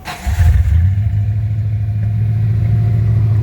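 Ford F150 pickup engine cranking and catching after a fuel tank replacement, then settling into a steady, loud low idle rumble close to the microphone with no talking.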